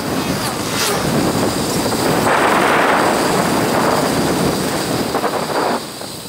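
Strong wind blowing outdoors near the water, a loud continuous roar buffeting the microphone with surging gusts that ease off near the end.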